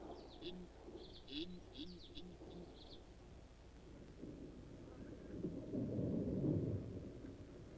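Rain with thunder: bird calls and cooing chirp over a soft wet hiss at first, then a deep, swelling roll of thunder builds in the second half and fades slightly, loud and low.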